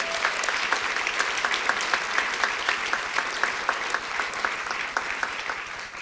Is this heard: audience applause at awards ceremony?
yes